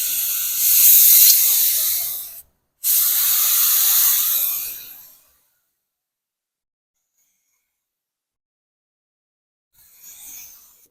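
A spray gun applies paint to a 1972 Ford F100 inside a DIY garage paint booth, giving two sustained close hissing blasts split by a brief pause, then a long silence and a faint short hiss near the end.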